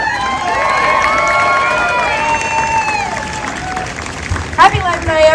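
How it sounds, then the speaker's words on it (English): A large crowd at an outdoor Labor Day workers' rally in downtown Lexington cheers and shouts steadily with scattered applause, voices layered into a sustained roar that swells and then briefly spikes near the end. "Give her a round of applause."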